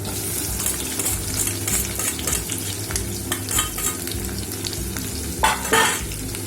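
Chopped onions sizzle steadily in hot oil in a pan for dal tadka, with a continuous close hiss broken by scraping and clattering stirs, and a louder burst of crackling near the end.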